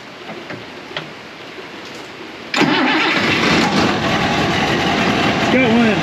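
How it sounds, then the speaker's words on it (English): An older farm tractor cranks and catches, a quiet starter whir giving way to the engine firing and settling into a loud, steady idle close by, with a person talking over it. "There's an engine start."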